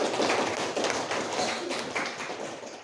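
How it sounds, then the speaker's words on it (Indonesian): Schoolchildren in a classroom clap for a group of classmates, a dense run of quick, close hand claps and taps that fills the moment with no talk over it. "Tepuk tangan buat kelompok."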